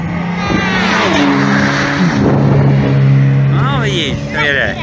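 A small tuned car drives at a tuning show, its engine revving and sweeping up and down loudly over crowd noise and speech, with tire squeals near the end.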